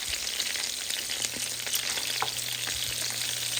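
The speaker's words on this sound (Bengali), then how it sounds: "তো সেই জন্য আমি ধৈর্য সহকারে অল্প আঁচে ঢাকনা দিয়ে ঢেকে আস্তে আস্তে ভেজে নিচ্ছি মোমোগুলা" Chicken momos frying slowly in oil on low heat under a lid, a continuous dense sizzle with small crackles and a low steady hum beneath, no voices.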